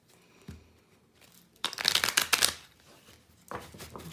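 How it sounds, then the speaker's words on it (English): Cards being shuffled close up: a soft tap, then a dense burst of rapid riffling flicks lasting about a second, followed by lighter shuffling sounds. "One last good shuffle here."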